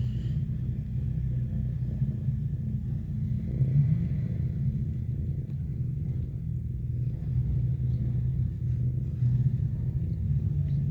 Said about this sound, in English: Another one coming out of an underground garage.